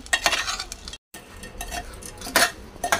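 Bhel being mixed with chaat masala, a spoon scraping and clinking against the bowl in quick uneven strokes, close and fairly loud, with one brief silent gap.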